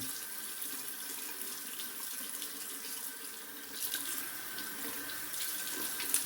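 Bathroom tap running steadily into a sink as water is gathered to wet the face before a shave, a close, even hiss of flowing water for the whole stretch without speech.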